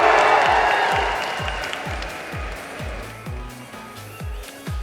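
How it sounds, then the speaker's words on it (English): Convention crowd at a Comic Con panel in London applauding and cheering loudly after a send-off, with dense clapping that slowly fades while a steady low beat pulses underneath. "Ladies and gentlemen, please give a round of applause to Jeff and Jack from Rooster"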